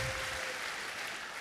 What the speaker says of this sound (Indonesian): Berikan tepuk tangan buat wow